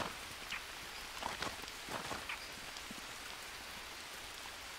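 Rain falling in the jungle survival game Green Hell, a steady hiss of drops with a few louder patters and soft rustles, moderately quiet and continuous without talk.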